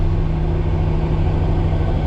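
Road traffic passes by with a steady low engine rumble and drone, close and fairly loud, with no voices.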